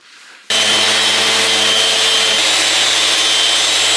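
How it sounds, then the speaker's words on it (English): Rough sanding of wood for a simple garden bench with 60-grit sandpaper on a power sander, a loud continuous abrasive whir that starts abruptly and runs steadily close by, with no talking. "I'm now going to sand it all down roughly. I'm going to use some 60 grit paper"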